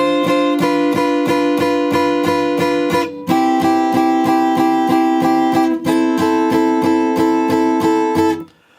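A song's intro line on guitar, E5, B5 and G5 held while single notes repeat: steady rhythmic plucked notes in three phrases with brief gaps, close and clear, no voices.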